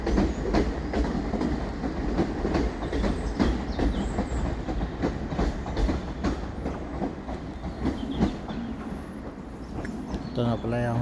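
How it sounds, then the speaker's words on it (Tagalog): A long train rolls past on the rails at Waterloo station with rhythmic clickety-clack and a heavy rumble, loud and close, with a voice speaking faintly underneath. "Yan, aalis na yung isang tren."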